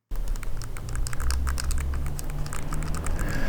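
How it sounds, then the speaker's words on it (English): Noisy buttons on an Anbernic RG34XXSP handheld console being pressed rapidly, a dense run of close plastic clicks and taps over a constant low hum, with no talking. "So this thing's less rattly, and the buttons are less noisy, but they still are noisy."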